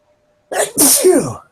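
One loud, close human sneeze bursts out in two quick parts after a moment of silence.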